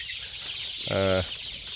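A single short chicken cluck rings out close by, standing out briefly against a steady background hiss.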